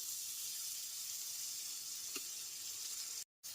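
Chopped onions frying in a hot pan on medium flame for doi chicken as ginger-garlic paste goes in, a steady close sizzle with one brief pop, cut by a short silent gap near the end.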